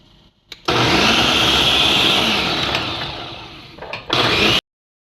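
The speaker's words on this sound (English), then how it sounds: "And now I'm gonna get a blend." A blender whirs loud and steady, blending okra, oats, sea moss and vanilla for a Jamaican-style porridge, starting abruptly, dipping briefly near the end, then cutting off sharply.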